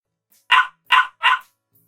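A puppy barks three times in quick succession, short sharp yaps with brief pauses between them, close and clear with no other sound around them.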